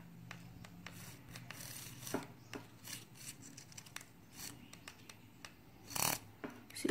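A paper quilling strip being coiled by hand makes faint, close rustling and rubbing scrapes in uneven short strokes, with one sharper crinkle near the end.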